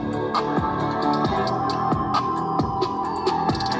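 A 2019 Harley-Davidson Street Glide CVO fitted with a large Volunteer Audio system plays music loudly outdoors, with a steady full-band mix and thumping bass hits recurring about every two-thirds of a second, no voices.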